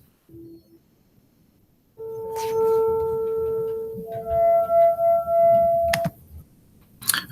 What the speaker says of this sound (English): Even something as simple as a wine glass.